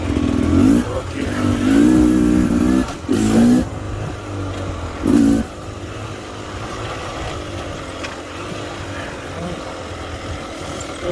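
A 2022 Beta Xtrainer dirt bike with a fatty pipe exhaust accelerates in second gear on a rough cliffside trail, its engine revving in several loud, close bursts over the first five seconds before settling into a steadier, lower drone.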